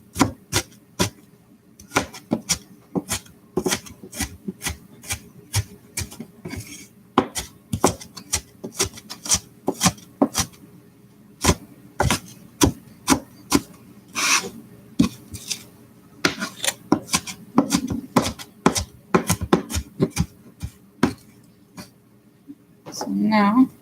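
A knife chops onions on a cutting board in a home kitchen while preparing lentils and rice, giving dozens of quick, sharp taps in a steady rhythm with short pauses, close and clear, with a voice talking over parts of it.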